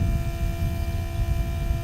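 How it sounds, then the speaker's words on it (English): An electric fuel pump driven by the UL Power ECU on an aircraft with a UL Power 350iS engine gives a steady, continuous low buzzing hum with a faint tonal whine, unbroken and without talk. "the UL Power ECU will run the fuel pump"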